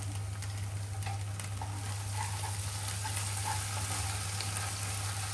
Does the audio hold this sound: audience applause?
no